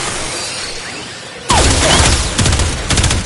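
Sudden loud automatic gunfire in Warframe hits shielded practice targets, coming after a quiet stretch of ambient hum in repeated close, sharp bursts.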